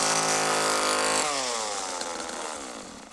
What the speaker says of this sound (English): And who doesn't love a good chainsaw to the guts?